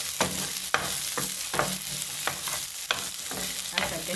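Bell pepper fries in oil, a soft steady sizzle broken by a regular series of scraping stirs from a utensil against the pan, close and fairly quiet, with no talking.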